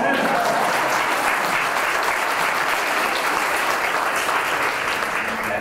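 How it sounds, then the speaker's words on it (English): A crowd at a veterans treatment court anniversary ceremony applauds steadily and loudly throughout, a dense continuous clatter of clapping hands with no break. "everybody's clapping, y'all want to clap"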